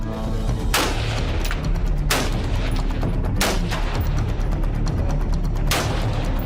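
Stag rifle gunshots on a timed outdoor shooting course at 500 to 200 yards, heard as a series of sharp reports at irregular intervals over a constant loud rumbling background.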